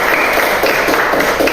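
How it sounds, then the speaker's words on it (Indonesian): A classroom of students claps for a classmate, a brief dense burst of many hands clapping at once, loud and close, filling the room. "kita tepuk tangan untuk Diego."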